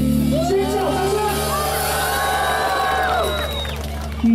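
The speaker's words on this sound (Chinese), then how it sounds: "尖叫掌声！" A crowd at an outdoor rock concert by a fishing harbour screams and cheers continuously, loud and sustained, with whoops and a singer's voice over a steady amplified drone.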